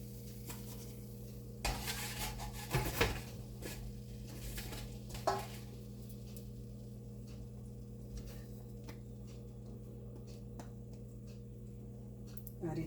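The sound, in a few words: kachori frying in oil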